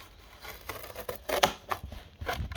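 Scissors snip and crunch through stiff sheet metal plate in a few quick, uneven cuts, close up and fairly quiet.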